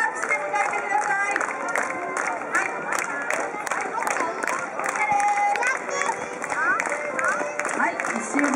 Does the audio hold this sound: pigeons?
no